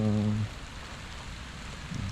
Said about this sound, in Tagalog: malakas po ang ulan lumalakas ang ulan